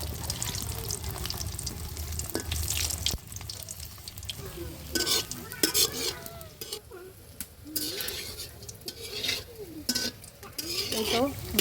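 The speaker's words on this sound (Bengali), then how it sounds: "চুলায় কড়াই বসিয়ে তেলটাও দিয়ে দিছি তেলটা গরম হয়ে কোপ্তাগুলো ভেজে নেবো" Fish koftas frying in hot oil in a wok for a village-style fish kofta curry, heard as a bubbling sizzle mixed with clattering metal scrapes and pan knocks, uneven and close, with no clear talk.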